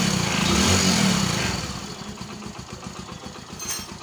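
Hero Passion Pro motorcycle engine idling after a timing chain replacement, a steady close-up chugging with a faint regular tappet ticking, the note dropping and settling to a softer even idle after the first second and a half.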